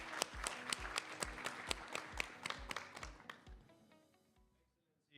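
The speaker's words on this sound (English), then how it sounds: "A big round of applause to our moderator and speakers." A small group claps for the moderator and speakers at an international private law summit, sharp individual claps in a quick steady rhythm that thin out and fade to silence.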